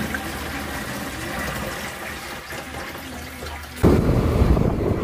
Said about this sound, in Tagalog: Diyan po, nagsasalin ng tubig.